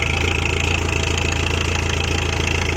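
A 47-horsepower four-cylinder tractor engine idles steadily and loudly up close, its even mechanical chug and vibration continuing throughout, while it drives a water pump by a long belt.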